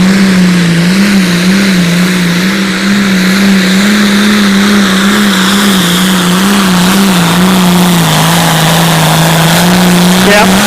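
A Light Limited Pro Stock pulling tractor revs hard at an outlaw tractor pull in Concord, Nebraska, its engine holding a loud, steady, droning note with slight wavering pitch for the whole stretch, with no talking.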